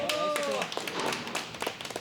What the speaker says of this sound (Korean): 자, 이제는 박수까지 터져 나오고요.